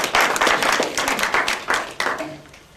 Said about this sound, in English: Give them a round of applause to go back to the scene.